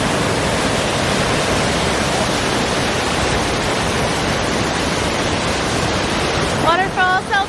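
A waterfall near Skagway, Alaska roars as a steady, loud wash of broadband noise throughout, with a few brief chirps near the end.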